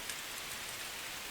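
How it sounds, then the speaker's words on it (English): Steady rain falling, a continuous soft hiss of drops pattering on a surface, moderately faint and even throughout with no other sounds. "As I lay there, the rain pelting my face"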